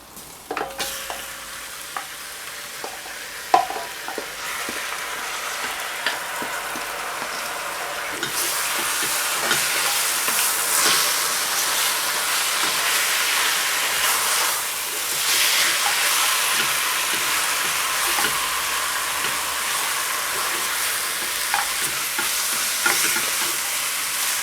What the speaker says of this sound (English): So we just want to brown the curry powder off and then we'll add our meat.